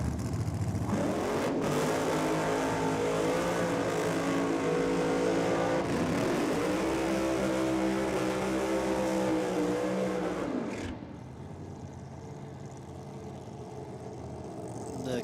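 A Hemi-powered Commodore Ute drag racing car at a Sydney drag strip roars loudly with a sustained high-revving engine for about ten seconds, rising in pitch, then cuts off abruptly, leaving a quieter background.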